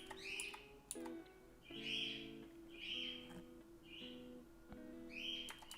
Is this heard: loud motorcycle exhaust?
no